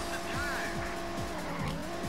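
A racing car in a Sega Saturn video game skids with its tires squealing over a steady engine drone, in a short, continuous burst.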